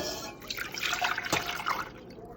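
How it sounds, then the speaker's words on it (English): Thick homemade ketchup is poured from one pot into a smaller pot, making close, wet sloshing and dripping sounds with a brief louder splat in the middle. "Now I'm transferring this to a smaller pot"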